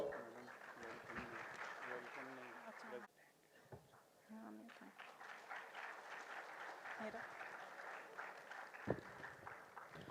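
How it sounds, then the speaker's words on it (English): Applause from an audience at a college annual function, a medical sciences college in Bhopal. It comes as a steady, distant patter of clapping under a speaker's amplified voice. "Please give a huge round of applause"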